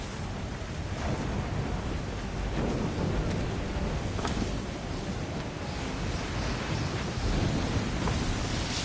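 A thunderstorm in Assassin's Creed 3 rumbles as a steady, loud wash of rain, wind and low thunder-like roar with no talking over it.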